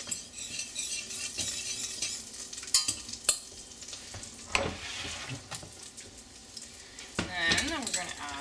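About two tablespoons of butter melt in a pan with a soft, patchy sizzle, punctuated by clinks of a utensil against cookware and a few scrapes, fairly quiet and close.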